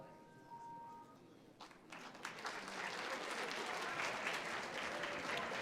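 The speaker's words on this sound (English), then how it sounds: "I want you to keep the applause going" Applause from a high school audience at a Black History Month poetry event swells after a quiet opening and holds steady as a dense, continuous patter of clapping.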